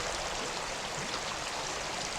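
Creek water rushing and splashing steadily through an H&R 12 gauge shotgun barrel being flushed clean, a continuous close hiss of running water with no breaks.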